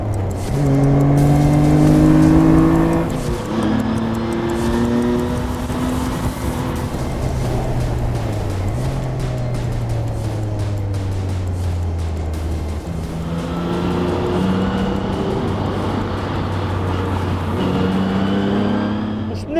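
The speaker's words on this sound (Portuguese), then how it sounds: "E agora, se me permitem, vamos acelerar." A Portuguese Adamastor P003RL sports car on Michelin Pilot Sport tyres accelerates hard, its engine revving loudly and climbing through several gear changes in a continuous close roar.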